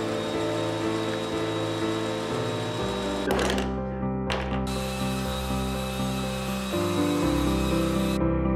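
Woodworking machinery mills wood for a steel and wood crucifix, giving a loud, steady motor drone with shifting tones, two brief bursts of harsh cutting noise near the middle, and a slowdown and restart toward the end.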